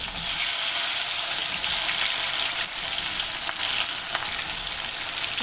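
Onions fry in hot oil in a kadhai for shahi paneer, giving a continuous close hissing sizzle with a few faint scrapes.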